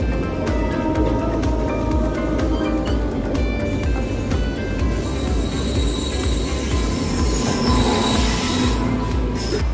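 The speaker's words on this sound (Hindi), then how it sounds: "उस तरफ से हिमगिरी एक्सप्रेस आ रही है।" Rail noise as the Himgiri Express passes on a parallel track next to a moving train, with constant loud rumble, wheel clatter and squealing throughout, no talk.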